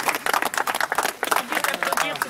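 An audience at a ceremony for children of Harkis at the camp of Bias applauds, with dense, uneven clapping close by and voices mixed in.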